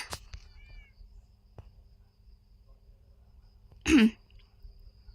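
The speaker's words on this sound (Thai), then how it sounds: "เดี๋ยวนะแมวมายังไงก่อน เฮ้ยเดี๋ยว แมวใครวะ" A cat meows once in a haunted-school video game, a short, clear, close call standing out over faint insect-like background chirping and a quiet ambient hum.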